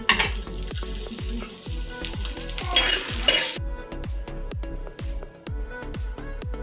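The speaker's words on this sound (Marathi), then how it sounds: "दाणे काढून घेतले की आपण त्यात मिरच्या आणि लसूण भाजून घेऊया" Green chillies and garlic roast in oil in a pan, with a continuous sizzle and a regular rhythm of spatula scrapes and taps against the pan, close and fairly loud, without speech.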